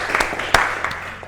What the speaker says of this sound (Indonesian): kalian tepuk tangan untuk teman-teman yang sedang maju